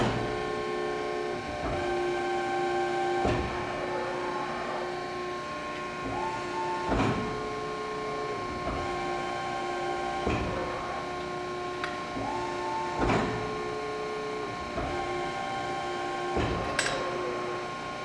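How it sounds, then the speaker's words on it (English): A Cincinnati 135-ton, 12-foot hydraulic press brake from 1989 with a CNC back gauge is cycled by foot pedal: a steady hydraulic hum with repeated rising tones and sharp clunks every few seconds, recurring about five times. "our 12-foot by 135-ton Cincinnati hydraulic press brake"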